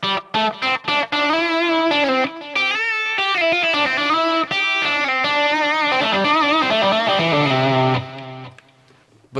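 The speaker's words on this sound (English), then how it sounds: "You could do it without a wah and it would sound like this." Electric guitar phrase played without a wah pedal, a loud, close lead line of picked notes and sustained bends that rings out and fades near the end, with no voices.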